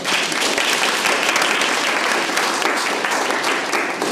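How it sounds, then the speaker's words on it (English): An audience at a Boston community event applauds for a speaker being introduced, a dense burst of many hands clapping that holds steady for several seconds and sounds close and full. "Y'all give her a round of applause."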